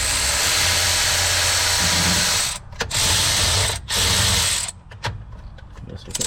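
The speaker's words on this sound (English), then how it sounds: "pop these head bolts loose" Ratchet loosening the engine head bolts on a Kawasaki Mule utility vehicle, a steady close mechanical clicking that runs for several seconds, broken by two short pauses and then giving way to scattered sharper clicks.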